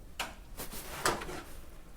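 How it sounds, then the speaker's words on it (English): A few sharp knocks sound close behind the listener in an indoor hallway during a nighttime paranormal investigation, spaced unevenly against a quiet background. "immediately a knock right back here behind me"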